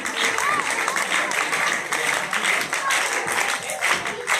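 An audience claps to welcome a speaker to the stage at a community outreach gathering, with fairly loud, continuous applause running throughout and some voices underneath.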